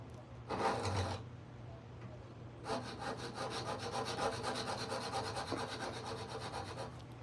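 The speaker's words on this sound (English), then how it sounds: "It's just filing right on top." A file rasps across wood during hand carving of a thumbs-up figure: a short scraping burst, a pause, then a longer run of steady back-and-forth strokes, close and fairly quiet.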